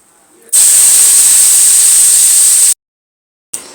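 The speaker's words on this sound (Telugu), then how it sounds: "మిగతా ముక్కలు కూడా వేసి ఎర్రగా వేపేసుకుందాం" Pieces of food are fried in oil in a pan, producing a loud, harsh sizzling hiss that starts abruptly, holds steady for about two seconds, cuts off and briefly returns.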